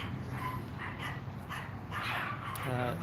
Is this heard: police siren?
no